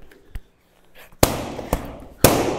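Boxing jabs smack into punch mitts during Muay Thai mitt work, three sharp, loud pops about half a second apart after a few softer taps, with no talking.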